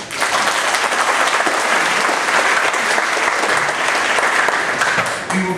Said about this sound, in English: except for now, as we give you gentlemen a warm round of applause